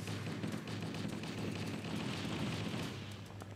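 A big explosion in the video game Cursed Halo comes as a sustained, rumbling roar with crackling debris, loud and dense for several seconds before tapering slightly.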